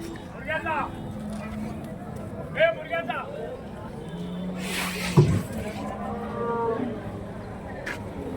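Cattle moo repeatedly at a busy Wednesday village cattle market in Orappam, several calls near and far rising over a background of crowd murmur, with people talking and a sharp knock midway.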